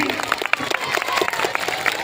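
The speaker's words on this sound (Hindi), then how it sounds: "हमारे न्यू ताजा ताजा शायर के लिए एक बार जोरदार तालियां हो जाएं।" Applause for a new poet at a shayari recital, a busy crowd clapping with distinct individual claps close by, steady and moderately loud throughout.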